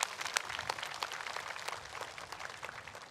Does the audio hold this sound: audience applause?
yes